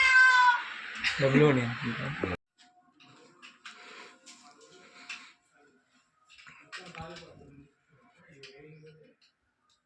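A cat gives one loud, close meow that swells and falls, followed by quieter household shuffling and faint sounds.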